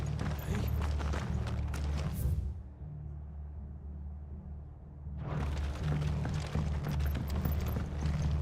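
Horse hooves clip-clop at a steady walking pace in Final Fantasy XVI, close and fairly loud over a dense game backdrop, breaking off for a few seconds mid-way before resuming.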